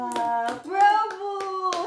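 Hands clap in a home at Christmas, several sharp claps in an irregular rhythm, near and loud, mixed with a voice and an adult talking.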